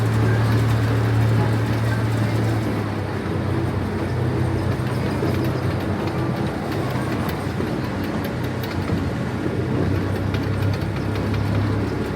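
Small zoo train at Santa Barbara Zoo rumbling along its track, a steady low engine drone with light rattling and clatter, continuous and fairly close for the whole stretch.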